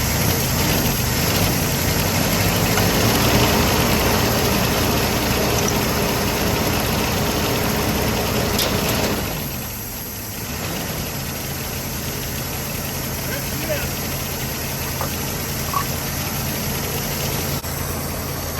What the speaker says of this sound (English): She's idling on her own.